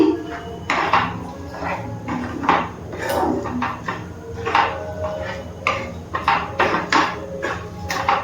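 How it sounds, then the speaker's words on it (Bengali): A spoon scrapes and clinks against a pan while fried mihidana is mixed into sugar syrup for the Bengali sweet, giving irregular close metallic knocks and stirring rasps in a steady rhythm. "মিহিদানাটা ভালো করে শিরার মধ্যে মিশিয়ে নিচ্ছি"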